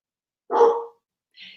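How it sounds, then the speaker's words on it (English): A single close dog bark, sharp and loud, followed a moment later by a brief fainter yelp or whine. "You hear my dog barking back."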